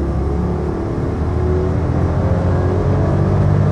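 The engine of a Chelsea Ghost car roars steadily at full power, loud and close, with a sustained whir and a drone that climbs gradually. No voices are heard.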